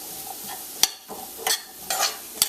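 Basmati rice with ground turmeric being stirred by hand in a pot: a few separate scraping sweeps, fairly close and moderately loud, with quiet gaps between strokes and no voices.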